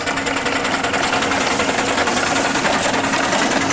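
Rapid, busy mechanical chuffing and clatter from a 4-inch scale Garrett model traction engine named Tilly running at a rally, close and continuous with a steady rhythmic pulse.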